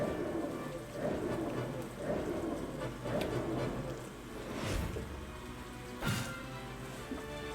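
Game rain in Banner of the Maid falls as a steady soft hiss, with a few sharp cracks and rumbles rising above it in a stormy scene.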